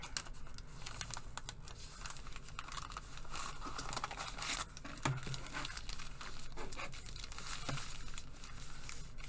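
Paper is folded and handled for a junk journal, with soft continuous crinkling, rustling and creasing up close at a low level and a few sharper taps.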